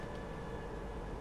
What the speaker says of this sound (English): that was just a train going above my truck